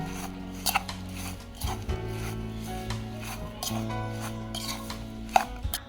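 Chili pickle being mixed by hand in a bowl: soft, continuous rubbing and squelching with occasional light clinks against the dish, steady and close, with no voices.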